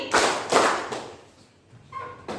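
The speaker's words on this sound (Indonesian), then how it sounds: "Tepuk 2 kali." A classroom group claps in unison twice, two sharp, loud collective claps in quick succession, then a pause with a faint stray clap near the end.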